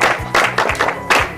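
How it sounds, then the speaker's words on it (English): A small group in a STEM classroom claps in brief, uneven bursts, close and fairly loud. "Very good, clap for her."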